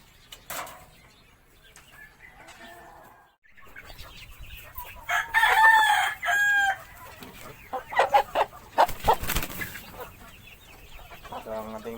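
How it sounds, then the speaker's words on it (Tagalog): A Barred Plymouth Rock rooster crows out loud and clear while three hens cluck and squawk around it, with scattered rustling and farmyard noise in between. "Isang tandang at tatlong inahin."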